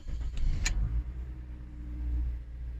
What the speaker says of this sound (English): So and the car starts.